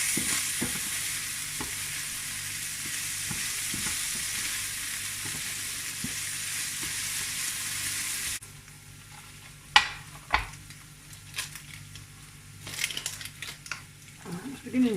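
Food frying in a pan gives a loud, steady hissing sizzle for about eight seconds, then drops to a quieter simmer broken by occasional clinks and scrapes of a utensil against the pan.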